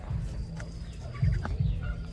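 A rooster of the Đông Tảo breed with thick, muscular legs gives low, throaty clucks in a farmyard, a few short calls close by over steady background noise.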